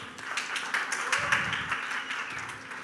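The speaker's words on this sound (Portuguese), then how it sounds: "Palmas, por favor." An audience at a forum on cannabis regulation gives a short burst of scattered clapping that fades within a few seconds in an indoor hall.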